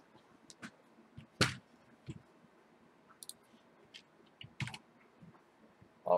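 Scattered keystrokes on a computer keyboard tap out in irregular bursts, with a few sharper clicks standing out and quiet gaps between them. A faint hum sits underneath.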